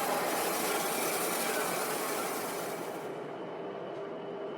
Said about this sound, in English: The noise of unknown thrumming engines and hydraulic pistons.